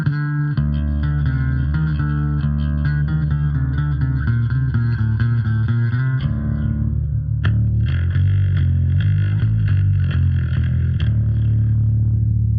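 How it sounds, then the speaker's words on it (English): Clean electric bass from a Squier Affinity Jaguar H Bass playing a steady line of sustained notes with a rich low end, shifting to a slightly different tone partway through. "This bass sounds really, really good like this."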